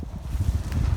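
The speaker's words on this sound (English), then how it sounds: "It's a fraction windy here, as you can tell" Wind buffets the microphone during a winter wild camp, a low rumbling, gusty rush filling the short moment with no speech.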